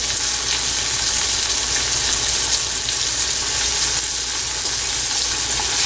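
Chopped onion, crushed ginger and garlic fry in a pan with a loud, steady, dense sizzle that hisses without pause from start to end.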